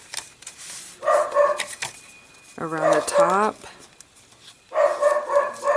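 A pet dog named Pokey barks in a few short bursts of yips and barks, one clearly nearer and louder, with someone talking briefly in between.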